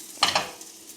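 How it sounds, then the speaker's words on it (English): Peppers and onions sauté in hot oil, giving a quick stirring scrape and two short bursts of sizzle that fade into a soft, faint hiss. "going to saute the peppers and onions very quickly"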